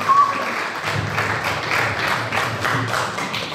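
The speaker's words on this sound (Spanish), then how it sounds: "Fuerte aplauso, por favor" Applause from the audience at a quinceañera celebration, a dense, steady wash of many hands clapping at moderate volume for the full stretch, with faint background murmur.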